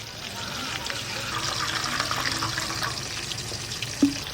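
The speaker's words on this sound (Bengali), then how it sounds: "আমি একটা বাটি নিয়েছি জল নেব বাটিতে" Water is poured into a kitchen bowl, a soft continuous trickle at low level, ending with a small clink.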